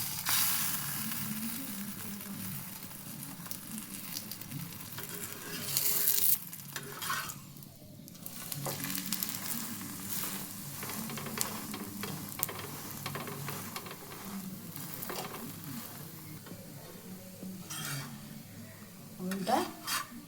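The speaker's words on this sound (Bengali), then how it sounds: "এবার এপিট ওপিট করে ভাজা হবে।" Methi paratha frying in oil in a pan, with a soft, continuous sizzle and occasional scrapes and clinks of a spoon and utensils, fairly quiet with no talking.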